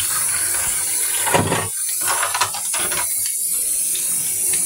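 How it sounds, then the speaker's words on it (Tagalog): Running water splashes steadily at a kitchen sink while dishes are washed, close and continuous with a few brief clatters and breaks in the flow. "maghuhugas na po ako ng plato"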